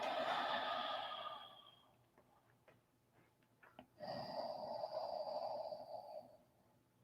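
Ashtanga yoga breathing: two long, audible exhales through the nose and throat, each a steady breathy rush lasting a couple of seconds, separated by a quiet pause with faint small clicks, close and soft.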